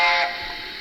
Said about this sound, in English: now it doesn't actually work with the long whistle function, just when you press 2